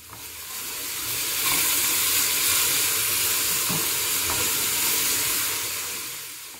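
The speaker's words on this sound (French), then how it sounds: "J'y fais revenir tous mes légumes pendant 5 bonnes minutes." Olive oil sizzles steadily as vegetables sauté in a pan, a broad crackling hiss with occasional stirring clatter, close by and continuous.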